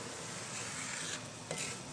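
Semolina halwa being stirred as it fries in oil, a steady soft sizzle with scraping spoon strokes against the pan, close and continuous, with a brief louder scrape near the end.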